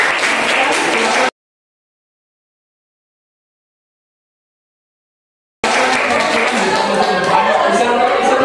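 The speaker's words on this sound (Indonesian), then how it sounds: "Tepuk tangan buat kelompok" Applause from an audience for the winning group in a classroom-style competitive game, in two dense bursts of steady clapping separated by a silent gap, with chatter mixed in.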